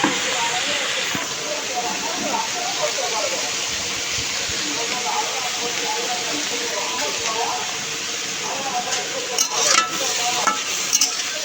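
Bitter gourd (karela) slices fry in a pan with a loud, continuous sizzle and hiss, broken near the end by a few sharp clinks of utensils.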